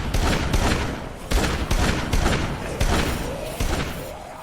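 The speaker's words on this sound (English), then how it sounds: "We also get the auto shotgun," Rapid, loud shotgun blasts from the auto shotgun in the video game Dead Rising 3, fired in uneven clusters of heavy thuds and booms with game ambience between them.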